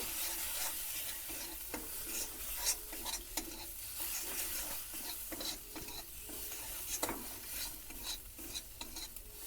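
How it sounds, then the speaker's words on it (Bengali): Cumin and chilli powder frying in a pan while being stirred, a soft steady sizzle broken by repeated scraping strokes of the spatula, close and quiet with no talking. "জিরের গুঁড়ো সামান্য লঙ্কার গুঁড়ো এগুলো আর একটু ভেজে নেব"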